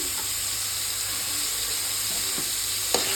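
Onions frying in a pan for a green gram moong dal curry, a steady broadband sizzle with faint stirring scrapes and a brief clack near the end, no talking.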